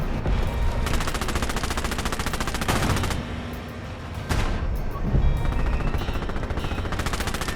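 Bursts of machine-gun and rifle fire from the World War II game Call to Arms Panzer Elite rattle in rapid volleys. Dense, loud fire comes in stretches, with a brief lull midway before shooting resumes.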